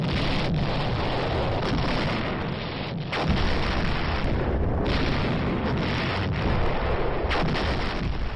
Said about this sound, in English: were awoken by a terrible barrage of artillery